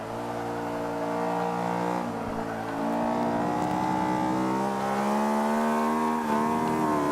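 A racing car's engine in Forza revs hard and steadily through the corner, its whining, harmonic-rich tone shifting pitch as the throttle is pushed, loud and alone without talk.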